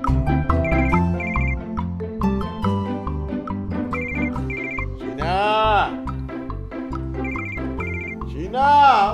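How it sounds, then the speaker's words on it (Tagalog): A cellphone ringtone plays loudly and repeatedly in a home, a melodic tune with bright chiming notes looping over and over, with brief vocal sounds mixed in. "Kanina pa tunog ng tunog to cellphone mo eh."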